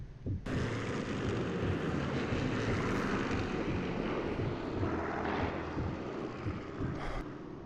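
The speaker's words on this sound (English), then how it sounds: "Okay, the plane came overhead." A propeller aircraft passes overhead in the Sniper Elite 4 video game, a loud sustained engine drone that starts abruptly and holds steady, alone without talk.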